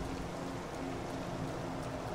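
Rain falls steadily outdoors, a dense, even hiss of drops that carries on unbroken throughout, with no voices over it.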